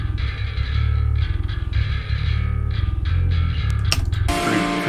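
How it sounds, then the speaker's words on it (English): A metal band's bass guitar plays a riff through an amp simulator with a dull, plain low-end tone. Notes thud in a steady, chugging rhythm, loud and close with no voices over them. "So one of the basses sounds like this."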